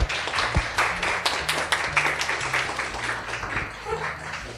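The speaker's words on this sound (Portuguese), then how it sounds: "Uma salva de palmas." Applause from a live audience at a podcast event, a steady spread of many hands clapping at moderate volume, loosening slightly toward the end, with faint low background noise.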